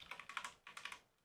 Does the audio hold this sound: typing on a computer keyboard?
yes